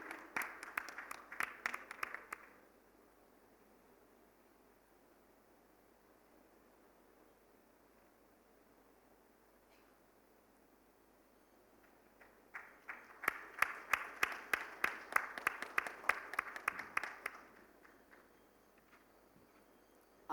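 A conference audience claps for a speaker in two separate bursts of brisk, fairly faint applause, with a quiet stretch of room noise between them.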